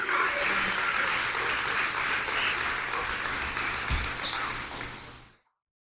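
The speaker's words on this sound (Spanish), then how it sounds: "Denle fuertes aplausos a Jesucristo." A church congregation applauds loudly and steadily in a sustained wash of clapping that fades out at the end.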